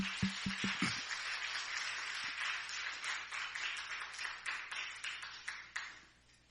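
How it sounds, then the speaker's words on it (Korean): A church congregation claps together in praise, and the rhythmic applause holds steadily for about six seconds before thinning out. It sounds moderately distant and somewhat faint, opening with a few sharp taps. "우리 하나님께 영광의 박수 한번 올려드리겠습니다"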